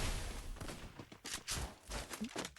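Gunfire in the mobile battle-royale game Free Fire, fairly quiet bursts of rapid shots and short volleys crackling on and off over a busy game backdrop.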